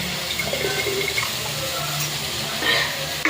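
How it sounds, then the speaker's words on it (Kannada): Water is poured onto cooked lentils for a festival sambar, a steady close rush of splashing liquid that runs on without a break and swells briefly near the end. "ಬೇಳೆ ಬೇಯಿಸಿರ್ತೀವಲ್ಲ ನೀರು ಹಾಕ್ಕೊಳ್ಳೋಣ."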